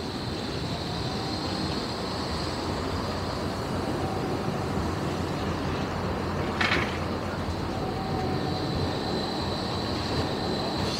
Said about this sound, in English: that tram there, just leaving.